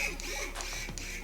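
A Beachwaver rotating curling iron's motor whirs close by, a steady mechanical hum that shifts pitch slightly as the barrel turns.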